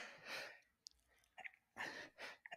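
A man sneezes sharply at close range during a UFC 276 breakdown and betting talk show, with a breathy sneeze early on and a louder double burst near the end. No speech is heard.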